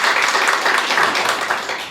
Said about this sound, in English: Clap if you think Sally is lying.